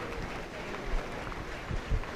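An audience applauds at beef cattle and feeder calf judging at the 2025 Dodge County Fair, a steady distant patter of many hands clapping, fairly faint.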